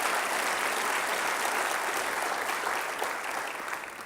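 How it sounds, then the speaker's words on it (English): Dense, steady applause from a large crowd at a Long Beach development update event, loud throughout and easing slightly near the end. "And let's give them all a big round of applause for this incredible project."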